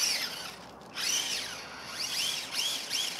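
A Grave Digger Trax RC monster truck with paddle tracks churns over a sand hill, its small electric motor whining in rising and falling arcs as it revs, stalls slightly and regains power, close and fairly steady with no talk.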